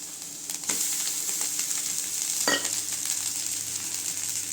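Cooked rice is tipped into a pan of sautéed carrots and stirred, giving a soft sizzle with scraping stirs, and a sharp clatter midway.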